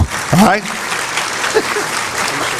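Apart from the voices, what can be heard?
applause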